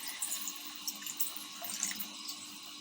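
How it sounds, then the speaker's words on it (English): Clean water is poured into a pot of red kidney beans, a quiet steady trickle and splash with small spattering bursts throughout and no talk. "I will now pour clean water inside this can that you can see of red kidney"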